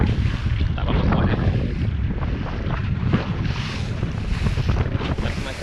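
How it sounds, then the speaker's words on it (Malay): Wind blowing at sea on a fishing boat while nets are hauled after heavy rain, a steady loud gusty rush buffeting the microphone, mixed with water and boat noise. "Tapi masih ada angin lagi ya. Tapi tak kuat"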